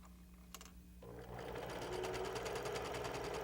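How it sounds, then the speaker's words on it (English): A sewing machine stitches a quilt seam, starting softly and then running at a steady, fast mechanical whir close by in a quiet room. "as I'm sewing"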